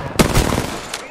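Gunfire in the mobile battle-royale game Apex Legends Mobile: a loud, sharp burst comes early, followed by rapid follow-up shots and a final crack near the end, all within about a second.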